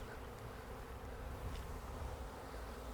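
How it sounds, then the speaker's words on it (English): Swarm of honey bees humming in a dense, steady drone from a bush, close and continuous with no voices. "there's a lot of bees in the box"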